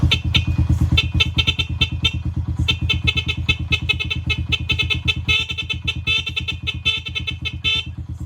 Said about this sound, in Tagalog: Tapos stock horn natin.